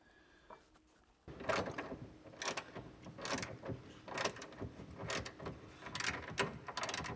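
Metal parts of a Refined Cycle JM1 jerry can mount on an FJ Cruiser being hand-tightened after thread locker goes on, giving repeated close clicks, scrapes and clunks in an uneven rhythm after a quiet first second, with no talking.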